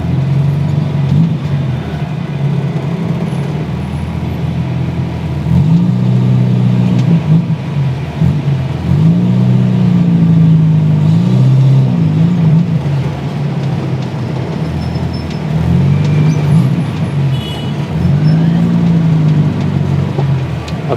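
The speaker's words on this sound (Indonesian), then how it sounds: "gimana rasanya pakai mobil setua ini, Katana Jimny long chassis dengan kapasitas mesin 1000 cc" Engine drone of a 1987 Suzuki Katana Jimny long chassis with a 1000 cc engine cruising on a toll road, steady low hum with repeated rises and dips in pitch as it pulls through gears, no talking.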